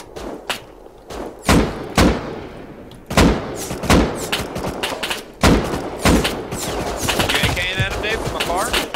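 Gunfire in the survival game Rust hits in loud, heavy bursts, with single shots and rapid strings of rounds at irregular intervals throughout.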